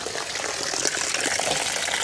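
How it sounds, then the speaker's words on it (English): Water pours and gushes into a gutter whose filter is clogged with debris, a steady close rush of splashing liquid with no talk. "look how this gutter fills up with water right there"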